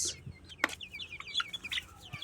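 Farm broiler chickens around 38 days old make faint clucks and short chirps at a distance, scattered irregular calls with no talking.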